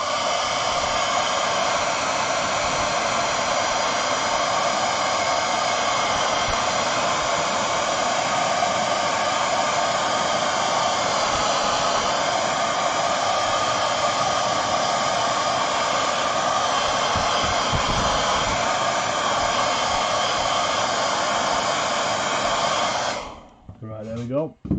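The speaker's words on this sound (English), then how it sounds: "I'm going to stick the hairdryer on for a second just to warm it up" A hairdryer warms a wargaming model to drive off sprayed CA accelerator, a loud steady blowing roar that runs unbroken for about 23 seconds, then cuts off with a brief clatter.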